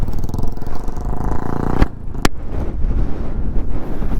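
Strong wind buffets loudly and continuously against the microphone on the hill at Mallappakonda, a roaring rumble broken by a couple of sharp clicks.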